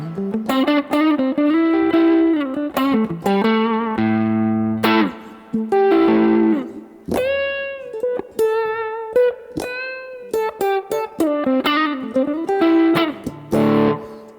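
Electric guitar played through a Neural DSP Dumble-style amp with reverb, ringing chords and melodic single-note lines with sustained, effected tails, loud and close with no voices.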